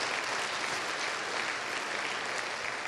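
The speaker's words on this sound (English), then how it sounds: "Give the old man a round of applause." An audience claps in a dense, steady round of applause, with the many hands blending into a continuous wash of sound that holds an even level throughout.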